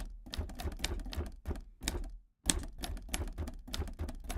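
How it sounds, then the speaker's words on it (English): Rapid clacking keystrokes from a virtual typewriter instrument, loud and close, with steady bursts of strikes and one brief pause midway. "have normal typing sounds"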